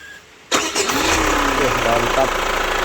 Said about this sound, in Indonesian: coba starter lagi Sun.